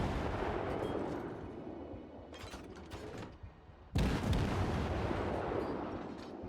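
Naval guns boom in a World of Warships battle, heavy broadband blasts and rumbling salvos with a sharp loud shot near the middle, over a constant roaring game background, no voices.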